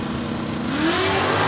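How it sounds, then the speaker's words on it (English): A Porcupine Chevrolet drag racing car launches in a final round at the 2017 JEGS Sportsnationals, its engine a loud, continuous roar that climbs steadily in pitch as it accelerates, with no talk over it. "The Porcupine Chevrolet closing in at the finish line stripe."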